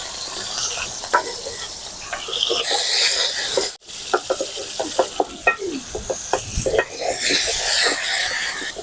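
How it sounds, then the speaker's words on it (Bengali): Potatoes frying in white oil in a wok, a loud continuous sizzle broken by repeated scraping stirs of a spatula against the metal, one brief pause midway. "আলুগুলো একটু ভেজে নেবো"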